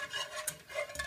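Orange juice is stirred into hot sugar syrup in a pan off the heat, a short soft swishing and scraping at low volume, with no voices.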